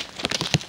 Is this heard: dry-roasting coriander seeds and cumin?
no